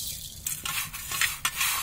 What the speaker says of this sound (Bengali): ধনেটাকে একটু ভেজে নিতে হবে।